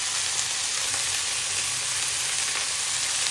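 Vegetables fry in a pan as salt, green chillies and turmeric go in, making a constant dense sizzle that holds steady throughout, close and alone with no voices.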